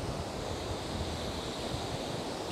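Waves wash steadily onto the beach at Kuantan, a continuous broad surf roar with no breaks and no voices.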